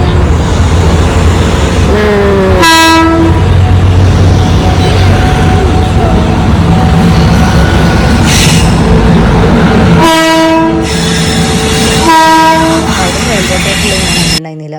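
A train rumbles past nearby with a steady, loud roar, and its horn sounds several times in bursts, voices faintly under the noise.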